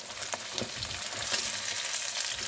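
Red potatoes, onions and mild sausage fry in a pan, giving a dense, continuous sizzle with a few soft stirring scrapes, close and with no talking.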